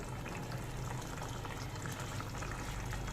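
Bele fish curry bubbles in a pan with a steady, dense simmering hiss and soft popping, constant and close throughout with no voices.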